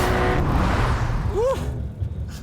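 A 2025 Porsche 911 launches hard on a race track with a loud, close engine roar that holds high, then a brief rising chirp before the sound eases away.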